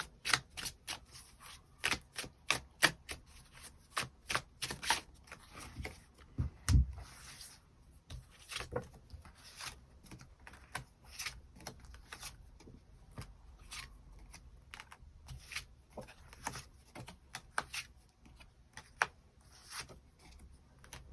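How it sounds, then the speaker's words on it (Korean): Tarot cards shuffled and drawn during a reading, a long stretch of quick, close riffling and snapping card sounds in irregular bursts with brief pauses, no voice. "새로운 인연의 등장 가능성에 대해서도 추가 카드 뽑아보도록 하겠습니다"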